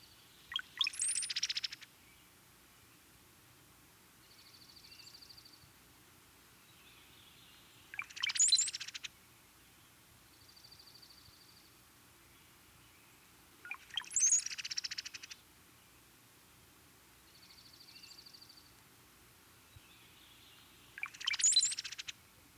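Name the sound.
cowbird songs and chatter calls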